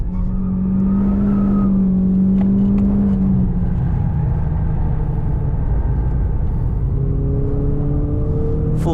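A Renault Clio 197 on the Silverstone circuit accelerates hard at full power, its engine note loud and steady with rising harmonics as the revs climb, easing briefly before building again, with no speech over it.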